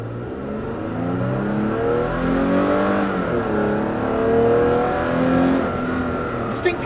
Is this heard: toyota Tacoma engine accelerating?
yes